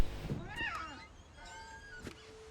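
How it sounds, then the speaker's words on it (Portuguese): A cat meows in the video game What Remains of Edith Finch, giving a few drawn-out, rising and falling meows that sound close and clear over a quiet background. "É um gato."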